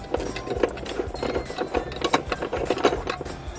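A float valve nut being unscrewed by hand after loosening, giving a close, steady run of small irregular clicks, ticks and scraping rattles throughout.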